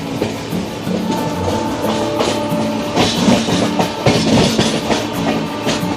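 The Kolkata Garib Rath Express, an AC train, running on rails, heard from on board as a steady rumble with rhythmic clickety-clack and metallic rattles, with no talking.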